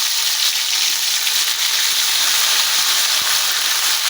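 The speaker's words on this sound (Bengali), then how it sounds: "ভাজা হয়ে গেছে, তেলের মধ্যে দিয়ে দিচ্ছি যে ধনে, জিরে, আদা, কাঁচা লঙ্কাটা বেটে রেখেছিলাম ওটা।" Ground paste of coriander, cumin, ginger and green chilli hissing in hot oil, a loud, dense, continuous sizzle close by with no voices.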